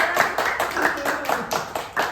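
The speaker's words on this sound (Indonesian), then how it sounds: "Oke, boleh tepuk tangan dulu buat kita semua." Audience clapping in a student group discussion session, a burst of several hands with uneven rhythm, moderately loud, with faint voices and crowd noise underneath.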